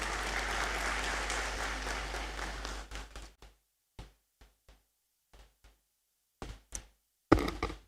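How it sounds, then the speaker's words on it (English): Applause in the Great Hall at a University of Ghana congregation ceremony, as the Registrar comes forward: a broad wash of clapping fades out after about three seconds, followed by a few isolated knocks and thumps near the microphone. "A round of applause as she comes."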